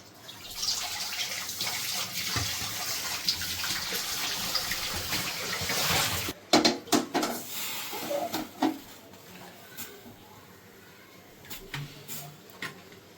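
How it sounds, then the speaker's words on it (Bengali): Running tap water gushes steadily while a kadai (wok) is rinsed for a hilsa and radish curry, then the flow stops and is followed by a few scattered clanks and splashes as the pan is handled. "কড়াটা একটু ধুয়ে নেব।"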